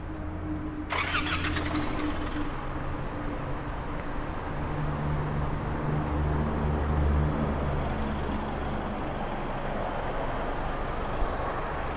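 A car engine starts and then runs steadily nearby for several seconds as the vehicle is moved into a parking spot at a used-car lot; the broadband rumble stays loud and continuous throughout.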